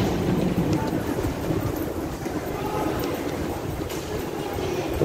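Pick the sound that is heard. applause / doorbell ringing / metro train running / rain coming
metro train running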